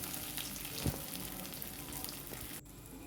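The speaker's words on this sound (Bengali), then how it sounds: "এপিট ওপিট করে একটু ভেজে নেব।" Boiled potato pieces sizzling in a pan of oil as they are turned over, a steady close crackle with a brief clatter of the spatula just before the frying noise drops suddenly near the end.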